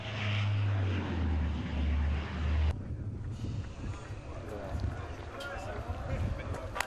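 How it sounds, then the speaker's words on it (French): Airplane landing at night: a loud low propeller or engine roar that cuts off abruptly, followed by fainter wind and rumbling, with voices talking beneath. "l'avion des joueurs amorce enfin son atterrissage."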